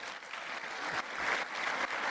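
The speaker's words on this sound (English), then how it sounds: "another round of applause" A conference audience at a waste-management congress closing ceremony applauds, a faint, steady wash of many hands clapping at a distance that swells slightly toward the end.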